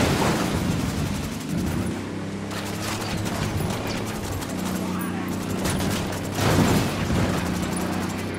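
Bursts of gunfire during a firefight in Ghost Recon Wildlands, rapid shots and heavy blasts layered under ongoing voices and game sounds.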